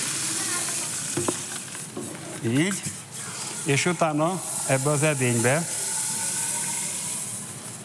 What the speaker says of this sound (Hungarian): Megnézzük a cseppfolyós nitrogént, beletöltöm ebbe az edénybe.